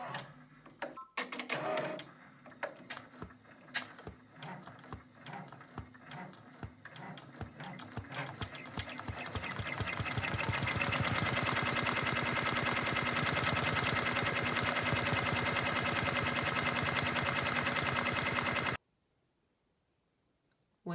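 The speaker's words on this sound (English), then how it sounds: "So with your hoop on your machine, stitch out your customization" An embroidery machine stitching a key fob design, starting with irregular clicks and taps that build into a loud, rapid, steady mechanical chatter, then cutting off abruptly near the end.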